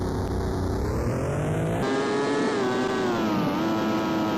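Amiga F1 GP race car engine in demo mode, a loud synthesized whining drone that climbs in pitch, drops sharply at a gear change, then rises again, with no speech.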